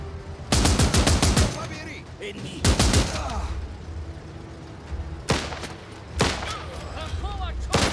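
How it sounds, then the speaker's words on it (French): Bursts of gunfire in the video game Last Train Home: two loud rapid machine-gun volleys near the start, followed by scattered heavier shots and a few later single cracks, with voices and background battle noise between them. "Elle tire lui dessus."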